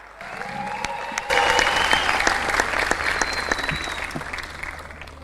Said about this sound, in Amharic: ሞቅ ያለ ጭብጨባ አድርጉላቸው።